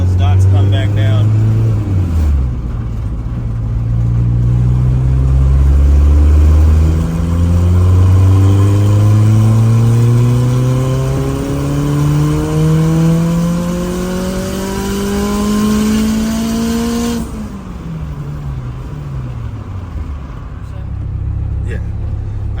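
Turbocharged Honda F20B engine with a GTX3582R turbo on a dyno during tuning, revving in one long loud sweep that climbs steadily toward the limiter, then drops sharply and settles back to idle.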